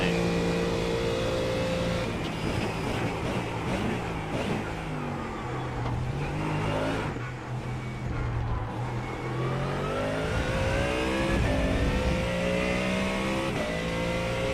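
Ford Mustang GT race car in iRacing, engine revving and shifting continuously with uneven, choppy throttle and braking, loud and close throughout with tonal gear whine rising and falling.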